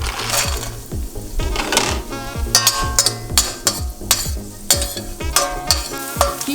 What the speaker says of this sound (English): Fry some cashew nuts and raisins.